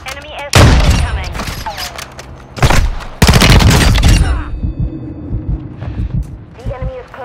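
Call of Duty mortar strike and gunfire: loud bursts of rapid shots and heavy impacts in several clusters, separated by quieter rumbling stretches of battle noise, with voices talking over parts of the action.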